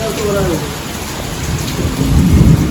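Heavy rain pours steadily while a low rumble of thunder rolls and grows louder near the end, amid lightning and darkening skies.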